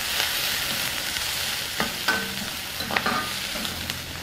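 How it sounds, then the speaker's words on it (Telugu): Onions and curry leaves frying in a pan while being stirred for an egg fry curry, a steady sizzle broken by several scraping stir strokes of a spoon against the pan. "ఇప్పుడు కొద్దిగా కరివేపాకు వేసుకుందాం. దీన్ని బాగా కలుపుకుందాం."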